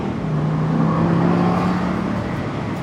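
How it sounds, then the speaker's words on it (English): A 420-horsepower V8 in a 2015 Aston Martin Vantage Convertible rises in a steady drone that climbs in pitch, close and loud, with no talk over it. "Hear that V8?"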